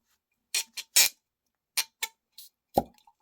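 A tight real cork pulled from a bottle of Hard Truth High Road Rye whiskey, heard as a few close, sharp squeaky scrapes and then a distinct hollow pop, with quiet gaps between.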